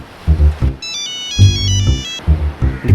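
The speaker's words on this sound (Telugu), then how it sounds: "నీకే ఫోన్ చేస్తున్నట్టున్నాడు" A phone ringtone plays in bursts of a bright electronic melody, alternating with short low electronic pulses, loud and close.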